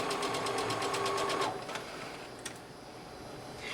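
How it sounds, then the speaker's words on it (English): A sewing machine stitches a dress seam in a fast, even whir for about a second and a half, then stops, leaving quiet room tone with a faint click. "I go reverse, and then I go forward again, and that locks that stitch in place."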